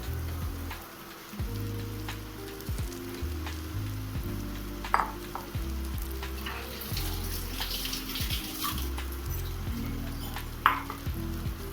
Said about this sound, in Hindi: मसाला अच्छे से भून गया है, तो यहीं पे जो आलू बॉईल करके रखे थे उसे डाल देते हैं